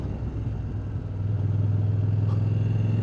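A CFMOTO 800MT-X motorcycle accelerates in second gear, its engine note rising into a steady, loud, throaty drone heard close from the rider's position, with wind rush throughout.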